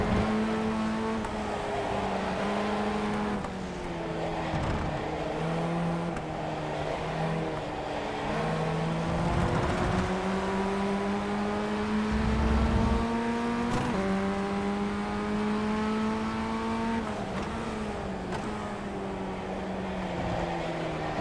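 Formula Ford 1600 race car engines roar continuously from inside a car during a race, the onboard engine revving up and down through gear changes with rising, falling pitch sweeps and other cars close by.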